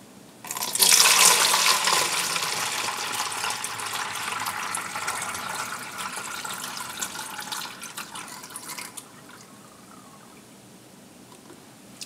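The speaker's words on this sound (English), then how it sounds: "And I'm going to pour the concentrated mixture" Concentrated ginger ale mixture pours into a bottle in a steady liquid stream that begins abruptly, holds for several seconds and then tapers to a quiet trickle.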